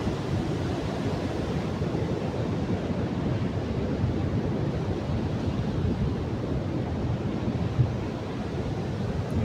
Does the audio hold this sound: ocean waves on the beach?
yes